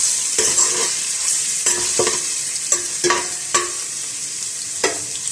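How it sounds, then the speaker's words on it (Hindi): Ginger garlic paste sizzling in hot oil with a steady hiss, broken by repeated scraping stirs of a spoon against the pan. "अदरक और लहसुन का पेस्ट शामिल कर देंगे और इसको हल्का सा हम फ्राई कर लेंगे"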